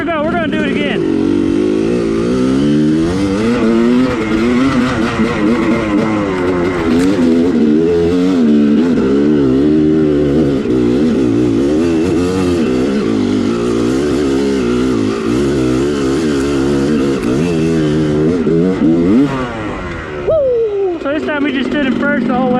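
A motorcycle held in first gear accelerates hard and revs loudly up close, its engine note climbing and falling in sweeping waves for about twenty seconds before it eases off.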